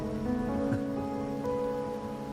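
Rain falling in Raguna in the video game Wuthering Waves, a steady soft hiss of drops on surfaces under a low sustained musical hum, continuous and even throughout.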